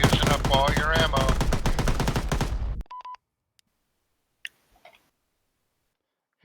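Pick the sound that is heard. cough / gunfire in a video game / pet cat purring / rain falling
gunfire in a video game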